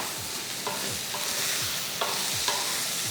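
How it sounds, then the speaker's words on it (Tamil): Beans tipped into a pan of sautéed onions, with a steady sizzle and repeated scraping strokes of stirring that land at a regular rhythm, close and moderately loud. "இப்போ நம்ம இந்த பீன்ஸை இதில் கொட்டிக்கலாம்"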